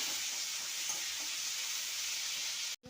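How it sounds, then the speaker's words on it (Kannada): Curry leaves, coriander and garlic frying in a pan for a drumstick gravy, a steady, soft, close sizzle and hiss that runs alone and stops abruptly at the end. "ಸ್ವಲ್ಪ ಕರಿಬೇವಿನ ಸೊಪ್ಪು ಹಾಕ್ತಾ ಇದ್ದೀನಿ, ಸ್ವಲ್ಪ ಕೊತ್ತಂಬರಿ, ಸ್ವಲ್ಪ ಬೆಳ್ಳುಳ್ಳಿ ಹಾಕಿ ಫ್ರೈ ಮಾಡೋಣ"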